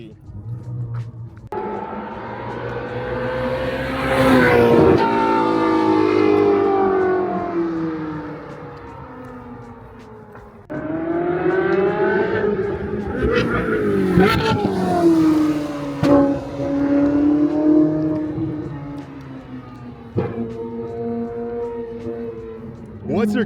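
A modified Chevy sports car engine revs and accelerates loudly in repeated surging pulls with pitch climbing and falling, close by, while a person talks excitedly over parts of it.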